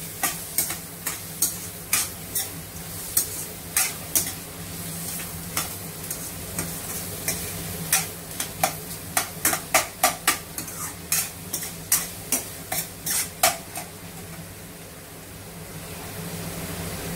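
Onions fry in a pan under a constant low sizzle while a spoon stirs and scrapes repeatedly, producing quick rhythmic clacks that cluster into a busy run before easing off.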